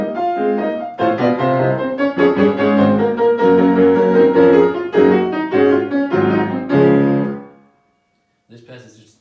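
Orchestral passage from the third movement of Beethoven's Symphony No. 1, a full, loud ensemble playing dense sustained chords for about seven seconds before cutting off, then a brief quieter resumption near the end.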